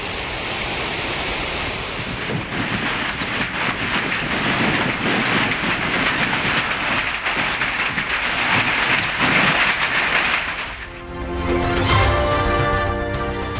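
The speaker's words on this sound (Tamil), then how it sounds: "மதுரை மாவட்டம் மேலூர் அருகே பெய்த திடீர் மழையால் வெப்பம் தணிந்து மக்கள் மகிழ்ச்சி." Sudden heavy rain near Melur in Madurai district pours in a dense, steady hiss, loud and close, before easing abruptly near the end as a faint tonal sound emerges.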